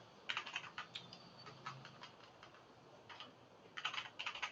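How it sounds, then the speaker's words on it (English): Typing on a computer keyboard in bursts of close, crisp key clicks with short pauses between runs, at a quiet level. "If I type"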